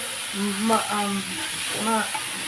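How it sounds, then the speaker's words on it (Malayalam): Onions sautéing in a pan while being stirred for an egg curry, with soft steady sizzling and a few scraping stir strokes, under a voice speaking intermittently. "നന്നായിട്ട് ഇളക്കി അതൊരു വഴണ്ട് വരണം"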